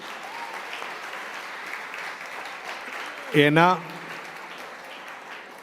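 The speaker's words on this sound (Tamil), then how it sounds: "ஆறு பேருக்கும் ஒரு பலத்த கைத்தட்டல் கொடுத்துருங்க" Audience applause for six speakers at a silver jubilee Tamil panel debate: a steady wash of many hands clapping in a hall, with a voice briefly speaking over it.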